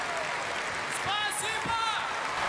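A concert audience applauds in a steady, dense wash of clapping that runs throughout, with someone talking over it.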